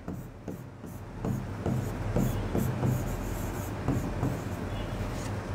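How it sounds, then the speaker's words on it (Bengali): A teacher writes out a question, a run of rhythmic rubbing, scratchy strokes at close range over a steady background rumble, with brief speech in the room. "আমি আগে প্রশ্নটা লিখে দিচ্ছি"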